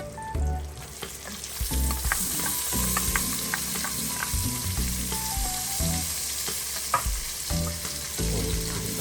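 Onion hits melted margarine or butter in a hot pan and sizzles loudly and steadily, with scattered pops and clinks of stirring throughout. It is close-up, and nobody speaks.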